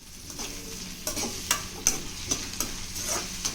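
Carrots stir-fried in a pan for egg rice make a continuous sizzle, with a spatula scraping and tapping at a fairly regular rhythm, close and moderately loud.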